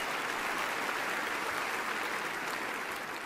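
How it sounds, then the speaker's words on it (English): A banquet crowd at the NASCAR Sprint Cup Awards claps for retired driver Mark Martin, a steady wash of applause heard somewhat distant and moderately quiet for a few seconds. "Can we please give Mr. Mark Martin some applause?"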